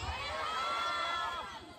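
A concert crowd at a Dashain festival night cheering and clapping, a loud dense roar of voices with a few shrill shouts rising over it, steady before easing slightly at the end.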